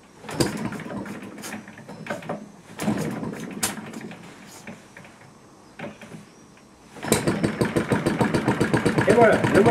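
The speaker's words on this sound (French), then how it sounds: "Et voilà, le moteur est parti." A miniature model engine on a hobbyist's bench is started. A few short, sputtering bursts with pauses between them give way, near the end, to rapid, regular firing that grows louder. A voice can be heard in the background.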